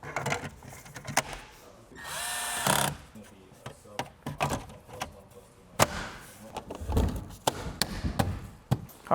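A power drill drives screws to refit factory interior trim panels in a Toyota GR86, with a brief whirring burst, clicks and knocks of plastic panels handled close by, and someone talking intermittently.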